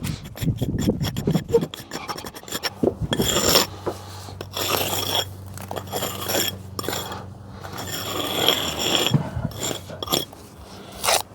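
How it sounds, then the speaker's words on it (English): Wire brush raked along fresh mortar joints between installed stone, a close, repeated scratchy rasping in uneven strokes, with scattered handling noise. "And afterwards, we use our wire brush. To do a rake joint,"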